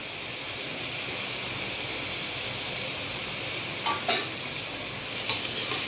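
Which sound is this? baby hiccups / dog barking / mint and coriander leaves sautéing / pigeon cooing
mint and coriander leaves sautéing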